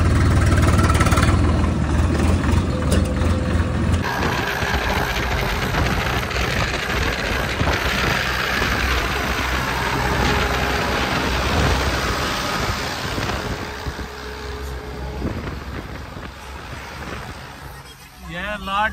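A Swaraj 100HP tractor engine runs with a steady, rumbling idle that holds throughout and eases slightly near the end, while people talk nearby.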